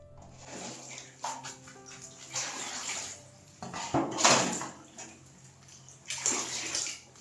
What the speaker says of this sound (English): We continue changing the water about 4 times in total.